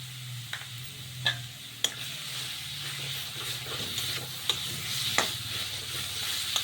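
Turmeric powder is stirred into taro curry frying in a pan, a quiet, steady sizzle with a low hiss, broken by occasional sharp taps and scrapes of the spoon.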